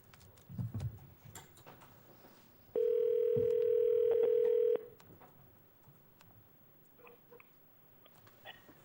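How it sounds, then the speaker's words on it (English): A telephone dial tone sounds as a steady two-second hum while a call is placed to an applicant during a city assembly meeting, loud over quiet room noise with faint rustles before and after. "we have to get the next applicant on the phone."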